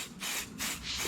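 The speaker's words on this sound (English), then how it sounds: "I'm going to spray it on the back, and then I'm going to put it on the helmet. Just a little light spray." Adhesive spray hisses in short light bursts onto lace held over a motorcycle helmet being custom painted, with three quick close pulses.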